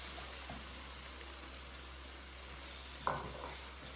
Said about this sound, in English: Allow it to fry a little bit. I'm going to add my peppers.